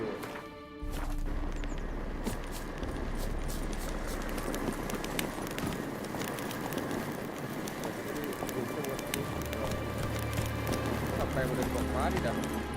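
Horse hooves clip-clopping in the video game The Witcher 3, a rhythmic stream of hoofbeats under a continuous game soundscape with birds and cooing pigeons, while a person talks over the top.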